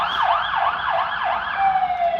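An ambulance siren wails loudly nearby as it passes, its rising and falling sweeps repeating steadily before settling into a flatter tone.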